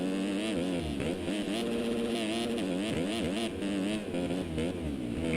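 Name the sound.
Husqvarna motocross bike engine, from MX Simulator video game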